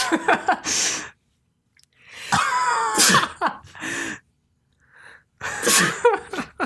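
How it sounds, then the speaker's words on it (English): Several loud, close sneezes in quick succession, separated by short silences, each a sharp burst followed by a breathy tail. "I've been sneezing all week."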